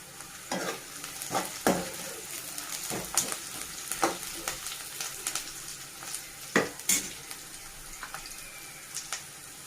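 Onions frying in a pan while being stirred for an amaranth (koyakura) fry, with steady sizzling and a series of sharp spoon scrapes and clinks against the pan at irregular intervals, close and moderately loud, with no voices.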